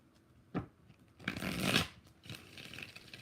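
Tarot cards being shuffled during a live reading: a short riffle, then a longer, louder burst of shuffling and a softer final flutter, close and alone.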